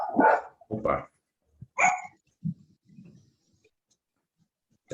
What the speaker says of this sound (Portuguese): Tem um cachorrinho aí.